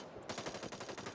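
A weapon in the video game Hyper Scape fires a rapid automatic burst of about eight close, loud shots in quick succession, starting abruptly after a short quiet moment.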